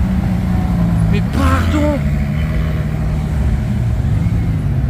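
Ferrari and blue Bugatti Veyron supercars pass on a street in Cannes, a steady low engine rumble with a brief rise in the middle, heard under excited talk.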